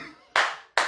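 Two sharp, close hand claps ring out in quick succession, each a crisp slap with a short decay.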